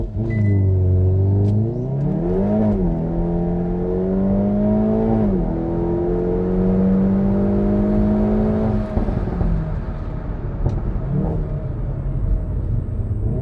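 A tuned Stage 2+ Hyundai i30N with 333 hp and 480 Nm launches uphill under launch control. The engine note climbs loud and close, then drops briefly at each gear change before rising again, with no talking.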